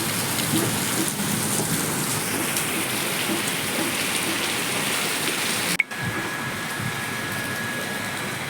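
Heavy first summer rain pours steadily outdoors with wind, a dense continuous hiss that holds for several seconds, briefly cuts out, then returns.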